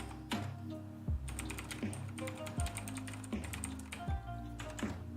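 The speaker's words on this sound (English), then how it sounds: "Oh, this keyboard." Rapid typing on a computer keyboard, bursts of crisp key clicks with periodic heavier thumps like the space or enter key, close and clear with no talking.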